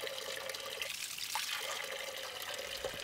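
Spring water spilling and trickling out at a source on Fruška Gora, a soft steady flow with a few brief drips, fairly faint and continuous.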